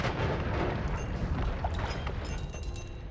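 In the video game Noita, an egg bursts as exploding oil ignites, a rough rumbling blast followed by crackling, popping bursts and small sharp effects, steady and moderately loud with no speech.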